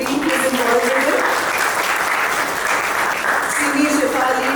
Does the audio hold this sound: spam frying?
no